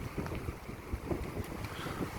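Strong wind rumbles and gusts across the microphone in uneven low bursts at night in Hilo, Hawaii, with a faint watery wash underneath.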